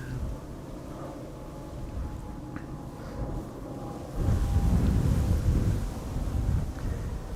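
Strong wind buffets the microphone at Amsterdam Schiphol Airport, a continuous rumbling gust noise that swells sharply louder in the second half, with faint background sounds and no clear talk.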